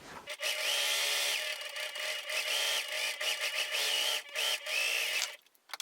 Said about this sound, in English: So I'm going to serge the outer edge of these.